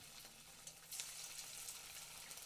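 Semolina sweets dropped one by one into hot white oil in a kadai on a gas stove give a faint, steady frying sizzle with a few slightly louder crackles.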